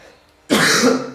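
A single harsh cough bursts out close to the microphone after a brief quiet moment.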